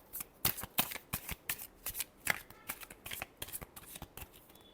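Tarot cards are shuffled by hand in quick, crisp riffling bursts, about a dozen sharp papery flicks in irregular rhythm, close and fairly quiet with no talking.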